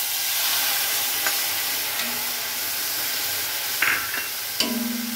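Mustard paste with a little chili powder fries in hot oil left from frying fish, giving a steady sizzle and hiss while it is stirred, with a few sharp clinks of the spoon against the pan.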